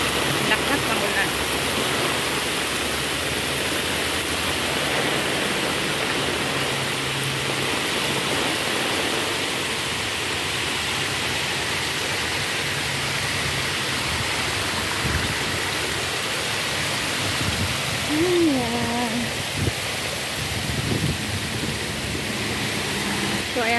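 Heavy rain pours in a dense, constant roar on a Hong Kong street, with a few faint passing sounds and a brief tone near the end.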